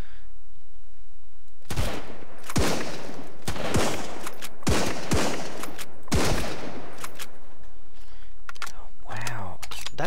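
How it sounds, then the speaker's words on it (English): Rifle shots in the survival video game Sunkenland ring out as a handful of sharp, loud single cracks spaced about a second apart, followed by lighter clicks and game noises. "Can I just pick him off with the rifle?"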